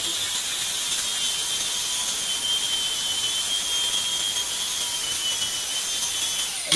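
Power sander working across the boards of a custom-built wooden deck, a steady, close, high-pitched whir held without a break, with no voices.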